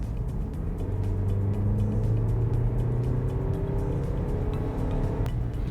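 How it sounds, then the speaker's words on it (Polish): An Audi Q5 8R SUV accelerates at full throttle from 60 to 90 km/h, its engine drone climbing steadily in pitch inside the cabin, with a gear change near the end. "Teraz jeszcze sprawdzę, jak przyspieszy od 60 do 90 km na godzinę. Gaz do dechy."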